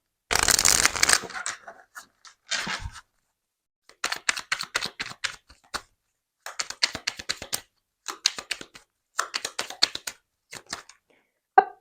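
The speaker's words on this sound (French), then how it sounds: "on va prendre une petite carte du petit oracle du tarot." Tarot oracle cards are shuffled close up in short bursts of riffling and flicking, separated by pauses and ending in scattered soft taps.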